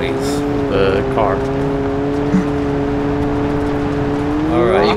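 Steady car engine drone from BeamNG.drive, held at a constant pitch and rising at the end as it revs up, with brief tire noise and people talking over it throughout.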